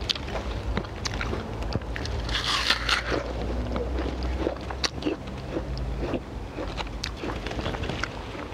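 Crunchy bites into a freshly picked apple in an outdoor orchard, a few crisp crackling chews up close over steady wind-like background noise.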